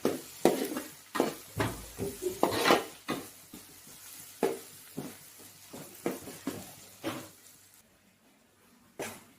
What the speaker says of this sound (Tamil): வெங்காயத்தை ஒன்றும் கூட நல்லா கொஞ்சம் செவக்க விட்டுறோம்